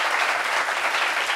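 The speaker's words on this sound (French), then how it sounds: "Ça s'applaudit quand même" Studio audience on a French television talk-show set applauds steadily, a dense, even wash of clapping that holds at a constant loud level throughout with no voices on top.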